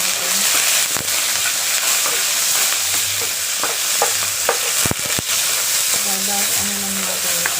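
Bitter melon (ampalaya) stir-fried with pork in a hot pan, a steady close sizzle of frying under repeated clacks and scrapes of a spatula, loud and continuous throughout.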